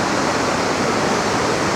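Rushing floodwater roars after a cloudburst in Kullu-Manali, a loud, steady, broadband torrent that fills the whole moment with no pauses and no voices.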